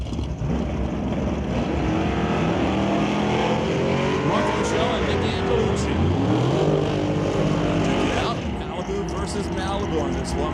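A Super Shifters drag race car runs a full-throttle pass at Mission Raceway Park without a throttle stop, its loud engine roar rising and shifting pitch through the run, with track announcer commentary over the top.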